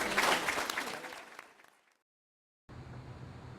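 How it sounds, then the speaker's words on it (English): An audience applauds panelists at a session on fixing the Illinois state budget, a quiet burst of clapping that fades out to silence, followed by a low steady background hum. "How about a round of applause for our panelists?"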